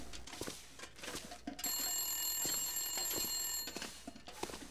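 A telephone bell rings in the survival video game The Long Dark, a loud, sustained electronic trill that starts partway through and then stops, set against quieter footsteps and rustling.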